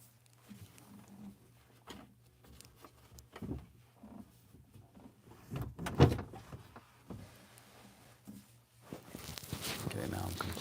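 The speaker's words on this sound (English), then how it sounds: "I'm gonna close this door so my daughter doesn't wake up" An indoor door is pulled shut with a single solid thump partway through, set among soft shuffling movement and a voice talking quietly before and after.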